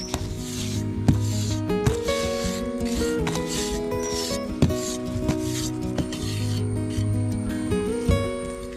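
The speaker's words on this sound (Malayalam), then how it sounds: "അതിനുശേഷം നമ്മൾ നമ്മുടെ കുമ്മായക്കത്തി ഉപയോഗിച്ചിട്ട് അത് എല്ലാ ഭാഗവും നമ്മൾ മിനുക്കിയെടുക്കുന്നുണ്ട്." Plastering trowel smoothing wet cement around a plant pot form, a soft close scraping rub over a steady background hum with a few brief knocks, no talking.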